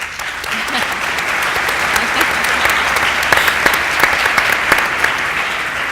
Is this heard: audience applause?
yes